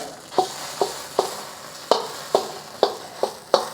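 Thai red curry paste fries in oil in a pan, a steady soft sizzle broken by a regular series of sharp spatula taps and scrapes, about two per second, close and alone.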